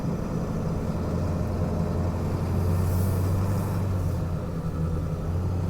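A 2002 Ford Excursion Limited with a 7.3L Powerstroke diesel drives on a cold morning, giving a constant low rumbling engine and road drone heard from inside the cabin, steady and moderately loud with no talking.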